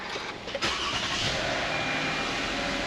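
A 2015 Toyota Scion car engine started with a push button, a brief click and crank giving way to a steady, close idle that runs on evenly with no talk.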